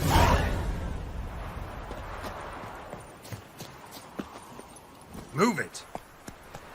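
The hooves of the horse Roach clip-clop at a gallop across open ground in The Witcher 3: Wild Hunt, as a steady, fairly faint rhythmic patter under wind and game ambience, with a shout partway through.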